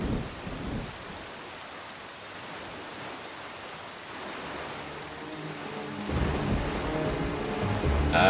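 Heavy rain hisses steadily over a stormy sea in The Legend of Zelda: The Wind Waker, with rumbling thunder swelling near the start and again toward the end, no voices present.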